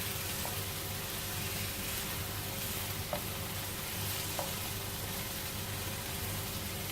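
Chinese chilli chicken frying in a pan, a steady hissing sizzle with three brief light clinks from stirring, close and even throughout, with no talking.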